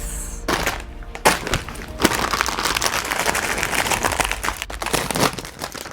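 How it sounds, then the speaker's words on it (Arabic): Loud, close crinkling and tearing of a plastic snack packet being opened, dense irregular crackles and rustles with a few sharp louder crunches throughout. "نبدا نفتح رابع كيس"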